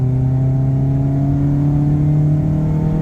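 A Toyota Soluna fitted with an aftermarket ECU box revs its engine loudly and up close, giving a steady droning rumble that climbs slightly in pitch across a few seconds.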